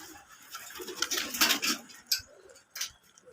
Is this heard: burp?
no